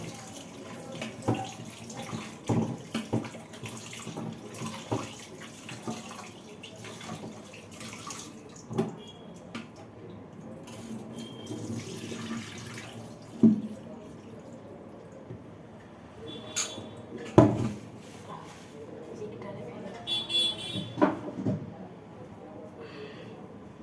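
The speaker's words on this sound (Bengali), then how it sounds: "আমি এই জন্য ভালো করে ধুয়ে নিই, 2-3 বার জল দিয়ে ভালো করে করে ধুই।" Chicken pieces rinsed under running tap water in a home kitchen, with a steady trickle and splashing plus intermittent clatter and sharper knocks from handling the pieces, all fairly quiet with no talk.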